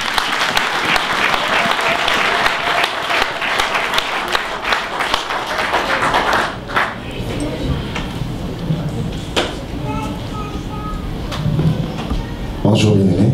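A church congregation applauding loudly and continuously, dense clapping that thins out toward the end as voices speak over it.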